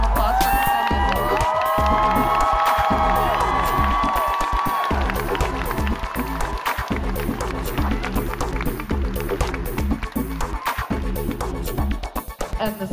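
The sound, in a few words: applause and cheering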